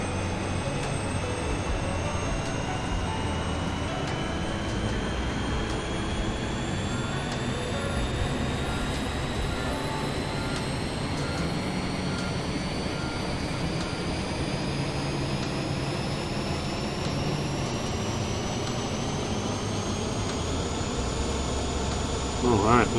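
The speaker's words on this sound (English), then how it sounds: "We'll go outside, we'll listen to the APU." An Airbus A320neo auxiliary power unit runs in Microsoft Flight Simulator as a continuous loud turbine drone and whine, with a rising tone that holds steady throughout.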